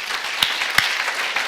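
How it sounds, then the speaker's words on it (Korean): A church congregation at a pastors' seminary service applauds in a loud, steady wash of clapping from many hands, with a few sharper individual claps standing out. "이렇게 할 수 있는 사람만 박수 쳐보세요"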